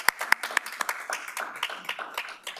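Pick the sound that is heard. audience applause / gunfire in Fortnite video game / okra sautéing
audience applause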